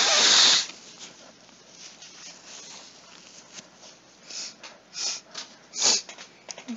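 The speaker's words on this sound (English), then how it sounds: "I literally blew my nose and made the noise the second the music stopped playing" A loud, sharp nose blow at the start, then several shorter snorting blows and sniffs, close to the microphone.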